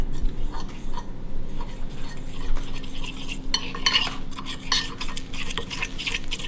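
A spoon stirs raw cookie dough in a bowl, giving close scraping and tapping against the sides, with brighter clinks of utensil on the bowl in the second half and no talking.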